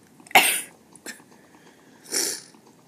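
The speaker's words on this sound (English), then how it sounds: "Sorry if I cough a lot." Two coughs from a sick person, a sharp loud one followed by a smaller catch, then another cough after a pause, close by with no talking.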